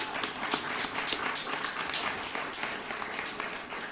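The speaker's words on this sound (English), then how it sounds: "Let's give a round of applause." Round of applause from a crowd at a Cincinnati event honoring UC Health Center medical staff, many hands clapping in a steady, dense patter that fades slightly toward the end, with no voices over it.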